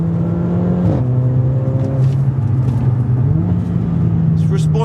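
A Mercedes-AMG A45 drives while warm, its engine droning steadily from inside the cabin, pitch dipping and rising with gear changes and throttle, with someone talking over it.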